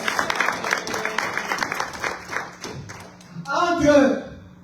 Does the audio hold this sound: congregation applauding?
yes